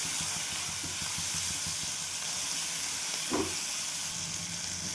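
Harbara (chickpea) leaves sautéing in oil in a pan with salt and turmeric give a steady, close frying sizzle and hiss throughout, with one brief stirring scrape near the end.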